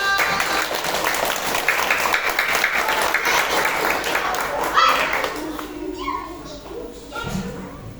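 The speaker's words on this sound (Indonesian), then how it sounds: "Tepuk tangan dong." Children in the audience of a fifth-grade school drama clap in a loose, uneven burst mixed with kids' chatter and shouts. The clapping thins out toward the end.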